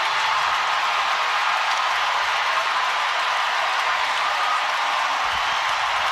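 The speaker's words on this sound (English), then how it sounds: "Listen to the crowd at Chase." A basketball crowd cheers at Chase Center after a late game-tying shot. The roar and applause from the packed arena are dense and steady and go on unbroken for about six seconds. No talk can be heard.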